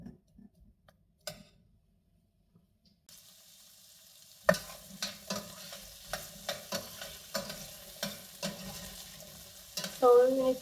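Potatoes and carrots stirred in a frying pan: after a quiet start, a steady sizzle rises, broken by repeated scraping and clacking strokes of a utensil, with a brief squeaky scrape near the end.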